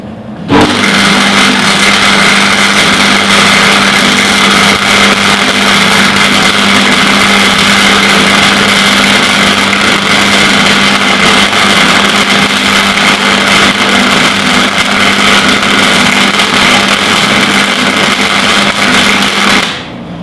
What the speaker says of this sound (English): just start welding this seam up along here